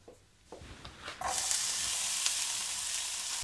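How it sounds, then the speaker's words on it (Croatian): Onion drops into hot oil in a pan, a few soft knocks giving way to a loud, steady sizzle that fills the rest of the moment, close up and with no voices. "kad sam popržio luk"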